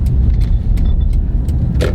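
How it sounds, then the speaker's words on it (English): Loose tools rattle and slide around in the back of a work truck on road tires as it drives, with repeated clinks and clatters over a constant low road rumble. "You can hear all his tools sliding around."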